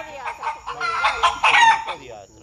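A chicken gives a close, loud run of clucks rising into a crowing-like call, lasting a couple of seconds with no other sounds.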